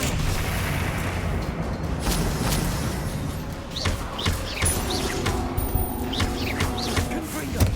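Confringo and Bombarda blasting spells bursting in Hogwarts Legacy, several sharp booms and cracks scattered over a busy rumbling battle bed, with chirpy effects and a voice calling out at times.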